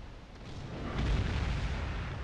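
Naval artillery from a warship firing in Steel Ocean, a dense, rumbling boom with a heavy low-end roll that swells midway and lingers as a continuous distant roar, with no voices.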